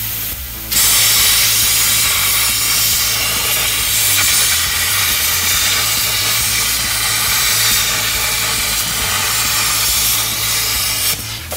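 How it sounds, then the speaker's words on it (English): A plasma torch on mild steel: the airflow switches on with a sudden loud, steady hiss that holds evenly for about ten seconds, then cuts off abruptly, with a low hum beneath and no talk. "We're going to squeeze the trigger, and we're going to hear airflow, and then the electric current will come out."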